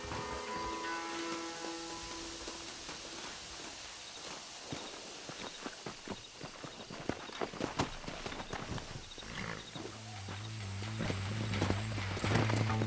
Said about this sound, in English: Come on, horses are over here.